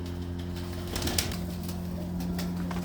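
A pigeon coos softly among steady background hum, with a brief flutter partway through.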